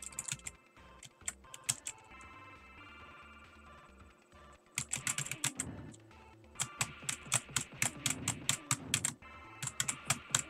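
Rapid keyboard key presses clatter back and forth in quick irregular bursts while a Watchmen game plays, with game music and effects running underneath and no talking.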